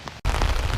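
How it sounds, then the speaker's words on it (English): Heavy rain in a castle park in Wezembeek-Oppem, Belgium, a loud dense wash of downpour broken by a brief dropout before the rain resumes at full strength. "it's really raining very hard"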